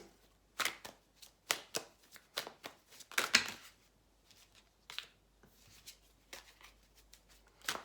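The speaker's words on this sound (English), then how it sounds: "Let's just get the rest of the cards and then we'll get into the reading." Tarot cards shuffled by hand make a series of quick riffling, flicking bursts in an irregular rhythm, close and fairly quiet, with no talking.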